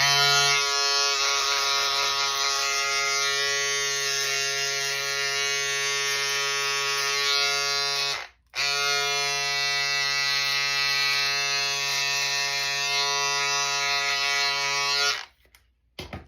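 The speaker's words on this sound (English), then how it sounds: "I'll show you now with the box shaver" Loud, steady mechanical buzz of an electric shaver trimming a beard close by, briefly cutting out midway before starting again and then stopping.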